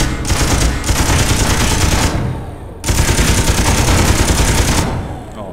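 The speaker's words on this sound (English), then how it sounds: "we're just going to have a quick minigun session with them" A minigun fires at targets in the Space Engineers video game, two long, dense bursts of rapid gunfire at close range, loud and continuous with a brief pause between them.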